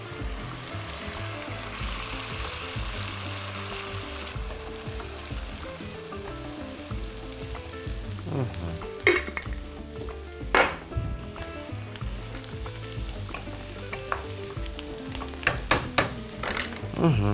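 Vegetables and sweet peppers sizzle and fry steadily in a pan alongside beef ribs braising in dark beer, with occasional utensil clinks and stirring scrapes rising above the continuous hiss.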